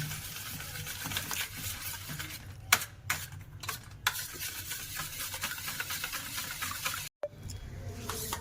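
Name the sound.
beating eggs for a coconut milk chicken dish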